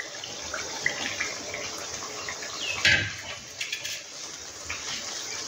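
Water from a bowl is poured into thick chicken gravy cooked without onion or garlic, a brief splashing gush near the middle over a quiet background.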